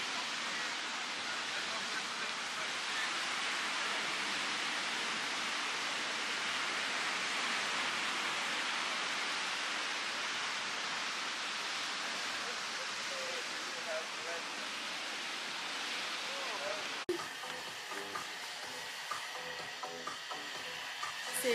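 Beach ambience in Vietnam at the end of the day: a steady, broad roar of breaking waves and surf continues unbroken, then turns thinner and more textured toward the end.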